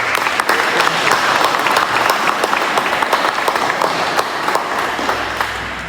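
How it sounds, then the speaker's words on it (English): Loud, dense applause from a graduation crowd cheering the Delaware Valley Job Corps Center class of 2025, steady clapping that fills the whole stretch with a faint voice underneath. "Clap it up."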